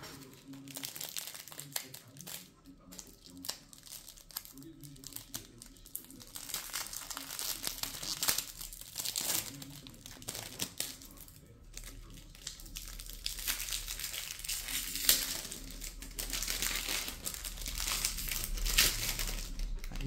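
Close-up tearing and crinkling of a foil diamond card pack, with rustling, ripping bursts and plastic crackles that come in waves and swell loudest near the end.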